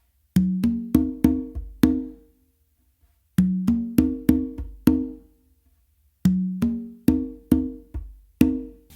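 Hand-played conga pattern mixing open tones and ghost notes, struck close and dry in three short phrases of quick, ringing hits with silent gaps between.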